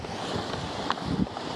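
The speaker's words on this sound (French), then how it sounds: "Fait que là, je sais qu'il vente." Wind buffets a microphone at a lakeside beach, a steady low rumble of gusts with a couple of brief knocks, no one speaking.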